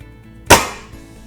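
A single sharp airgun shot fired from an artillery hold, one loud close crack with a short decaying tail and a faint click just after.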